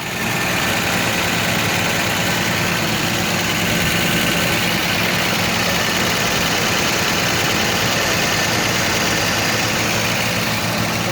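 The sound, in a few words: 1931 Chrysler Series 70 engine idling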